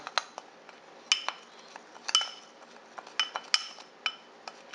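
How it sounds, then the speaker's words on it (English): Seasonings being stirred together in a bowl for herbal lemon pepper tilapia, with a utensil clinking against the bowl in a series of sharp, irregular taps and scrapes, close and fairly quiet, with no talking. "Let's mix that up very well first."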